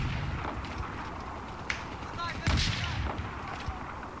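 Gunshots in a video game, several sharp cracks and a louder burst around the middle, sounding over a quiet game background.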